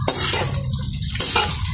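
Continuous frying sizzle of vegetables in a pan with scraping and stirring sounds from a utensil, close up, no voices.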